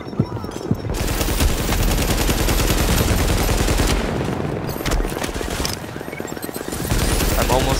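Explosive ammo gunfire rattles in a video game, sustained loud automatic bursts hammering almost continuously with short breaks, close and dominant.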